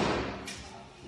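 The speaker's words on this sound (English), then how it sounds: "you want to grab the door for me?" A car door slams shut with one close, dull thud right at the start that fades quickly, with voices present in the background.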